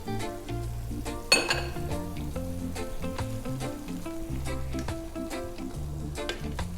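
Tofu and vegetables for Filipino tofu noodles sizzling in a pan, a constant frying crackle under repeated spatula scrapes and one sharp clang near the start, close up with no voices.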